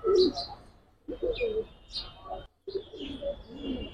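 Pigeons for sale, including Afsan grizzle racers, coo and call in short bursts under the hum of a busy setting, with faint speech-like sounds mixed in.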